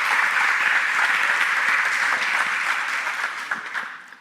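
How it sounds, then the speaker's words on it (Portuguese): A church congregation applauds during a sermon, thick steady clapping that fills the space, holding strong before tapering off toward the end. "pode aplaudir o Senhor mesmo?"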